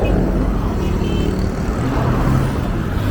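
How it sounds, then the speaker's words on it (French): A steady, loud low roar of jet aircraft noise at the end of the runway by Abidjan's airport in Port-Bouët, Côte d'Ivoire, mixed with road traffic rumble and continuous for the whole stretch. "on voit beaucoup d'avions décoller"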